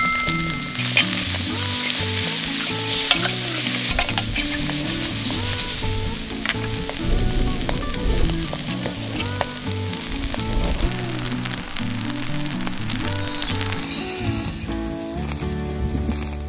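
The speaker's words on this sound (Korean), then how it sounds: "밥 볶아서 한번 먹어보겠습니다." Rice stir-fried in oil with kimchi, green onion and laver, a steady close sizzle and crackle of frying with scraping stirs throughout, no talking.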